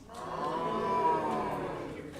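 A single long, low moo from an ox in a stable, sustained and fairly loud for about two seconds, heard alone.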